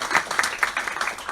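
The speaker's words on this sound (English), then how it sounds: "clap for Tom" A small audience claps at a Hatch + Hnry investing-for-contractors event, giving a short burst of brisk, uneven applause with rhythmic peaks, fairly close and with no voices over it.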